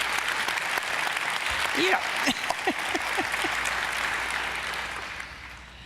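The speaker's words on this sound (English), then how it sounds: "you can clap for Ms. Claude, of course. Let's do that." Audience applause fills an evening event hall with Eva Schloss as guest, a steady wash of clapping from a crowd lasting several seconds and tapering off at the end, with a voice speaking briefly over it.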